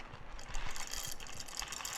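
A coffee grinder's adjustment dial is turned through a quick series of small, dry clicks, close and fairly quiet, with no voices.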